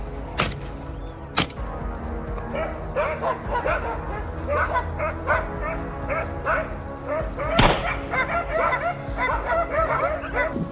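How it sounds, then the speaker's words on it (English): Hunting dogs bark, yip and whimper in a near, busy chorus while chasing and herding wild hogs, with two sharp loud bursts early on and steady excited calls throughout. "they chase and herd the hogs into open ground, barking and pressuring them to stay clustered."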